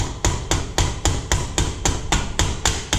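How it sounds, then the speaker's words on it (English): The rounded peen of a ball peen hammer strikes around the head of an aluminum rivet fastening toolbox ends to the bottom, giving about eleven sharp, evenly spaced metallic taps at close range. "With our ball peen hammer, we're gonna use the rounded peen side. You're gonna make your way around the head of this rivet."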